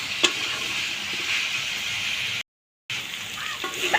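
Ginger, garlic and cumin with spices frying in a pan, a steady soft sizzle with a couple of light stirring taps, briefly cut to silence partway through.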